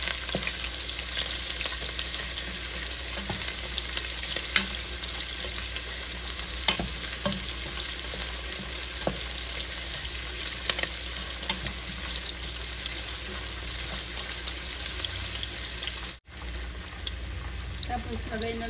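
Onion fries in a pan for a chicken and mixed vegetable dish with beancurd, a continuous even sizzle with occasional sharper pops and clicks, close and steady.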